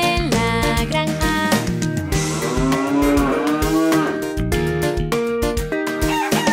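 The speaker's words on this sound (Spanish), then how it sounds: "La vaca en la granja hace mu, mu, mu." A cow's moo in a children's farm song, heard against bright, continuous music with steady melody and rhythm throughout.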